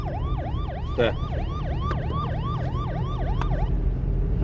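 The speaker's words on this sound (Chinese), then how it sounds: "把所有的警笛都关掉" Police car sirens wail loud and close, several overlapping rising-and-falling tones repeating steadily, with one brief spoken word over them.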